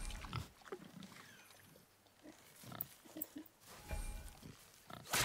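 A strange-looking boar in God of War grunts and snorts in several rough bursts, close and fairly loud, over a low ambient game backdrop with no talking.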